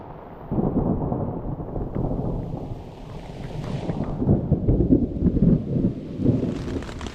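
Thunder rolls through a wilderness storm with rain, a deep low rumble that swells and surges in waves across several seconds, close and heavy, with no one talking.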